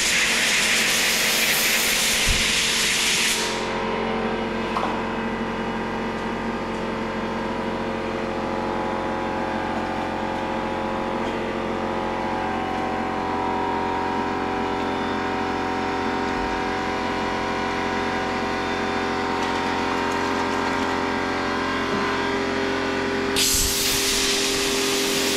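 A Graco TrueCoat 360 airless paint sprayer hisses steadily and loudly for over twenty seconds over a constant mechanical hum, with brief louder bursts at the start and end.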